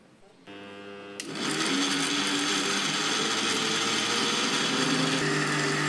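A mixer grinder whirs into action blending watermelon pieces with sugar for juice, starting with a brief low hum then ramping up to a loud, steady high-pitched motor whine that runs continuously.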